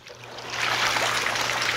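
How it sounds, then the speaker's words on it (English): Water rushes steadily through hot tub jets driven by a high-speed jet pump, a dense, continuous hiss and gurgle that swells slightly and holds, with a low hum beneath. "Now you have maximum water coming through the jets"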